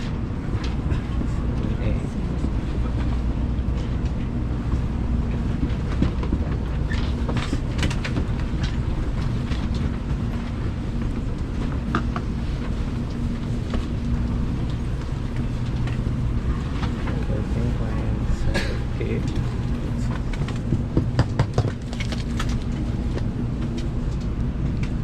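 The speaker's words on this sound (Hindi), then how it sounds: "मेरे बैठने की देर थी, ट्रेन तो स्टार्ट भी हो गई है।" Interior rumble of a Shinkansen bullet train running from Osaka to Hiroshima, a steady low drone with faint rattles and occasional knocks throughout, with people talking quietly over it.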